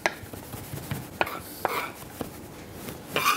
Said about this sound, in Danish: Det skal være sådan helt fint hakket.